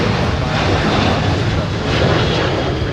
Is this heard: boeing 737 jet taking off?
yes